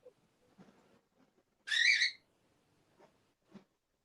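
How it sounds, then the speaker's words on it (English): A bird gives a single odd, squawking whistle-like call about half a second long, fairly close and loud against a quiet background with a few faint soft sounds around it. "birds make weird noises sometimes"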